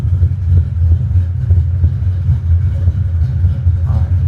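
A car with a big cam and manual transmission, its engine idling loud and close in a lumpy, uneven rumble with a steady loping pulse throughout.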